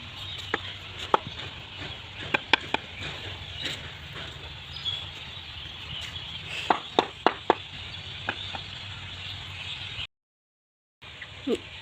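Scattered sharp knocks and taps of a carpenter making a wooden bird house door over a low steady hum, irregular and fairly close, with a brief silent gap near the end.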